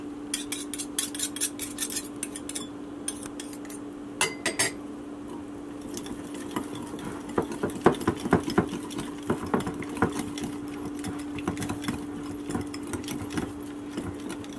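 Tartar sauce ingredients with lemon juice are whisked in a bowl, making a rapid, steady clicking and tapping of metal against the dish that continues close and fairly loud throughout, with a faint constant hum beneath and no talk.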